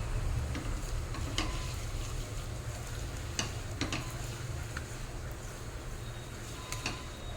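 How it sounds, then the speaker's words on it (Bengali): Moong dal frying in a pan over a high flame, a steady close sizzle with occasional stirring scrapes and clicks throughout, no voices. "হাই ফ্লেমে 1 মিনিট মতো একটু ভেজে নেব।"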